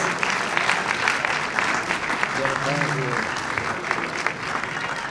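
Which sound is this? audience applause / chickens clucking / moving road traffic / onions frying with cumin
audience applause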